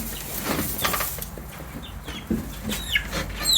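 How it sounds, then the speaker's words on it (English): Seven Leghorn and five Buff Orpington chicks peep in a brooder, with thin high chirps scattered irregularly over rustling and handling noise, fairly close. "We have 7 leghorns and 5 buff Orpington chicks."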